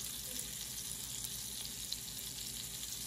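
Parmesan-crusted smallmouth bass frying in a pan gives a soft, steady sizzle and hiss from start to finish, fairly faint and uninterrupted, with no voices.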